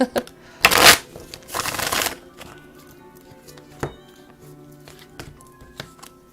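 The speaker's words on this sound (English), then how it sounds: "I'm going to shuffle and then pull a card off the top of the deck." A tarot card deck is shuffled close by in two loud riffling bursts, followed by softer taps and a few scattered clicks as cards are handled.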